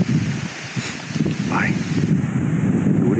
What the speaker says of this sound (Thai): ดูดิลมแรงมาก